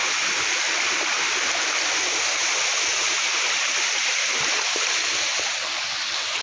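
A waterfall and a clear flowing stream rush steadily and fairly close, a dense, continuous wash of splashing water with no other sounds standing out.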